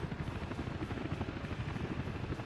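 Helicopter rotor noise from the city-building game Workers and Resources: a steady, dense low chopping drone that holds evenly at moderate level throughout, with no talk over it.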